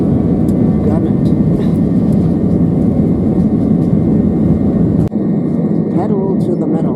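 A Lufthansa Airbus A321 jet rolls for takeoff, its engines producing a loud, steady roar and rumble inside the cabin that continues throughout, with a brief dip near the end.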